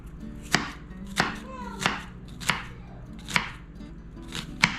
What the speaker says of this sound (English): So that's what we're gonna cut the same way.